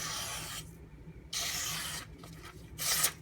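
A knife blade is sharpened on a whetstone in repeated long scraping strokes, three or four rasping passes separated by short pauses, close and fairly quiet.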